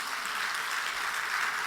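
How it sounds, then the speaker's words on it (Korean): A church congregation applauding together after an evening worship service, steady dense clapping that fills the room at an even level throughout, with no voices over it. "우리 13성교회 우리 박수로 한번 격려하십시다."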